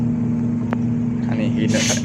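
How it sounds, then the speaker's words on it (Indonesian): Hino RM bus engine straining up a hill on a forest road, a steady deep drone with a strong low hum heard from inside the cabin, a brief knock and some rising noise near the end. "Ini Hino RM menaklukkan tanjakan di sini."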